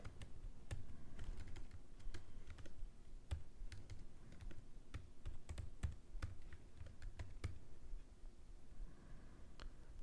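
Rapid key presses on a computer keyboard as an email address and password are entered, a steady close clatter of irregular clicks running throughout with no talk.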